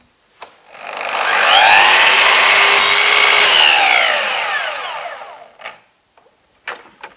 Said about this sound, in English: I'm just going to cut some aluminium track here